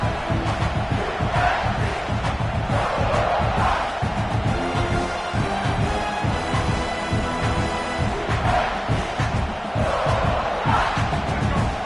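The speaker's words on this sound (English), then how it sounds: "This crowd bringing the energy and noise early." Loud stadium crowd at an American football game roaring and cheering continuously, a dense wall of massed voices that swells and holds throughout.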